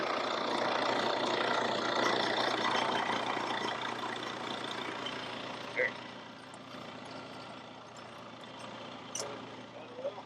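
A farm tractor's engine idles steadily at moderate distance during haying season, a low continuous rumble with a few brief clanks, while people talk nearby.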